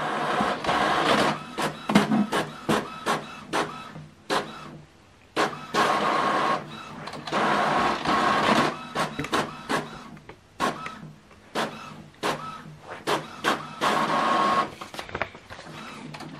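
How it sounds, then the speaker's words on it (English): An Epson WF-M4119DW printer runs through a document, alternating whirring feed passes with rapid clicking and mechanical clunks, close and steady, without talking. "Printing complete."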